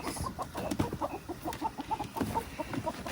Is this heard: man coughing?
no